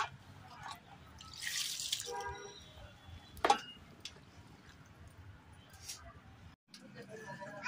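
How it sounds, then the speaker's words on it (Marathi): Cold water is sprinkled by hand over freshly boiled noodles, making a short, faint splashy patter with a few soft drips in a quiet kitchen. "त्याच्यावर जरा गार पाणी शिंपडून घ्यायचं, म्हणजे चिकटत नाही तो नूडल्स"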